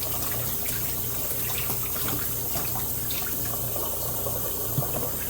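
Treatment equipment is rinsed under a running tap, a steady close splash and hiss of water that continues throughout.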